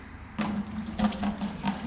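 Hot water pours from a one-gallon container during a home cleaning job, a short splashing stream that starts abruptly and runs unevenly with small gurgling bursts, moderately close.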